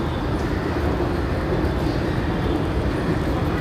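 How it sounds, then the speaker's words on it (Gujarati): An Ahmedabad metro train running, heard as a steady, loud, continuous rumble and rush of rolling noise with no breaks and no voices. "જો મિત્રો મેટ્રો ટ્રેનનો અનુભવ કરવા આવી ગયા"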